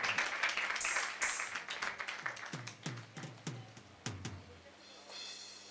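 A church congregation claps along in rhythm, loud and close at first, then thinning into scattered, ringing claps that fade out near the end.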